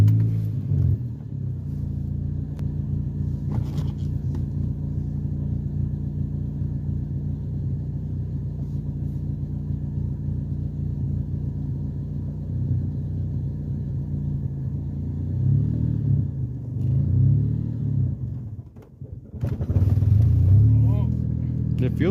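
A manual-transmission car rumbles steadily at low revs, then the engine note rises near the end as it pulls away, with a low, close drone throughout.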